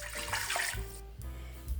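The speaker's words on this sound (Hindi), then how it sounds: "1 कप पानी जाएगा।" A cup of water is poured into a cooking pot that already holds ghee, while making mutton kunna: a gushing, splashing pour with a few surges, moderately quiet, with no talking.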